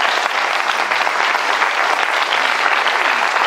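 A Lyon audience applauds Gaël after his service with a sustained, thick wash of clapping that holds at a constant, fairly loud level throughout, with no voices standing out.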